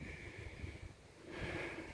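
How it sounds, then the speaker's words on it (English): Wind blows across an outdoor vegetable garden, a soft, low rushing that swells toward the end, with no voices. "It's windy out here and I'm kind of shaky."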